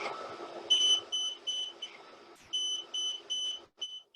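A driver fatigue monitoring system in a car in Shenzhen sounds its warning as a series of short, bright electronic beeps, two bursts of several pulses separated by a brief pause, heard clearly over low cabin hum.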